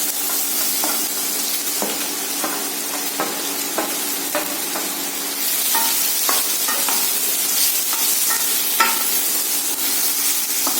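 Ridge gourd pieces fry in hot oil, a strong steady sizzle with scattered crackles and the scrape of stirring, heard close with nobody talking.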